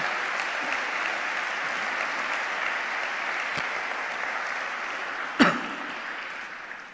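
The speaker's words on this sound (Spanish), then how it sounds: "Le damos un aplauso" A church congregation applauds in a steady, moderately loud wash of clapping, with one sharp nearby knock or thump near the end as the applause tapers off.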